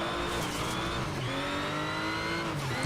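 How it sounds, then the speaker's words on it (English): A race car engine strains in Need for Speed Shift 2, a continuous loud droning rev with rising and falling pitch and a hint of tire squeal, alone without talk. "it kind of hurts to hear the car do that, right? Like, she's just struggling like that."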